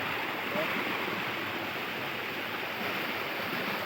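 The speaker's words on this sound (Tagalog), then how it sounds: "Ayan, bagsakan ng tubig sa baba." Steady broadband rush of water falling from a pool waterfall down into the pool below, a constant hiss with no speech over it, moderately loud and close.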